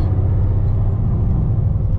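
A public bus engine idles and rumbles with a steady, loud low drone while riding through Sicily, Italy, with no voices over it.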